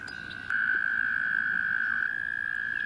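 Green frogs at a pond keep up a steady, unbroken trilling call that grows louder after a faint start, with no speech over it.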